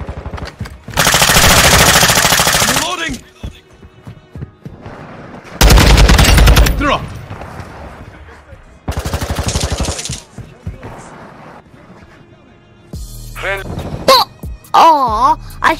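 Loud bursts of rapid automatic gunfire in a shooter video game, several long sustained volleys broken by pauses, with voices talking and shouting in between.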